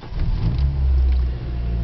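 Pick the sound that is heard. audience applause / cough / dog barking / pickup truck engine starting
pickup truck engine starting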